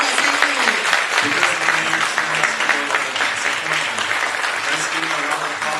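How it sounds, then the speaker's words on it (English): Audience at an Asia-Pacific youth leaders summit in Taipei applauds the city mayor, a dense, steady round of clapping that stays loud throughout, with a faint voice briefly underneath. "让我们再次用热烈的掌声，谢谢市长今天的参与"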